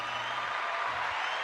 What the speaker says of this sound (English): Hand clap for you.